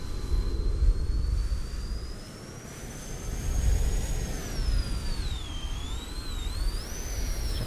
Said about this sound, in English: I can hear the engines from here.